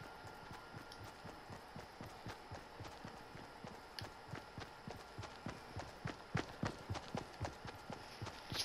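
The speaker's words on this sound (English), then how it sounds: "Footsteps are so sketchy" Footsteps in the Fortnite video game, a quick, even run of loud thudding steps that keeps going throughout, with occasional brighter clicks in between.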